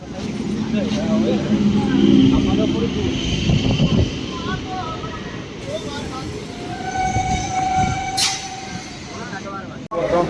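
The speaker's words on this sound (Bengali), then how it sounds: "ট্রেনে তো দেখো ট্রেন ছেড়ে দিচ্ছে বনগাঁওয়াসি থেকে বর্ধমান যাওয়ার দিকে" A train pulls away from a station in West Bengal toward Bardhaman amid bustle, with loud rumbling, clanking carriages and people talking nearby, and a brief whistle-like tone near the end.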